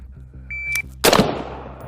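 A single gunshot from a headshot at 5 yards on a shooting range, one sharp loud report with a trailing echo, preceded by a short electronic timer beep over a low steady hum.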